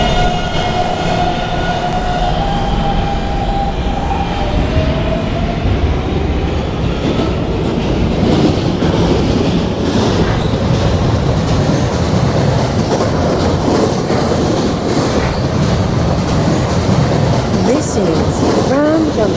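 Loud, continuous rumble of a video-game R152 subway train rolling along, with clacking wheels and a rising whine, while an announcer's voice speaks over it.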